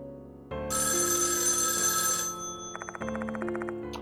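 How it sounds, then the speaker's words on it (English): A black telephone rings loudly in the horror game Death Mark 2, with repeated electronic ring bursts filling the scene from start to finish, no one speaking. "The black telephone rings loudly."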